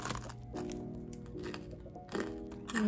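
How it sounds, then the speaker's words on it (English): Crisp, heated bread with a super crispy crust crunches as it is bitten and chewed, in a few short, close crackling bites under a light, continuous background. "You can hear the crunch."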